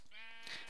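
A single sheep in the game Minecraft bleats once, a short wavering call, faint against a quiet background.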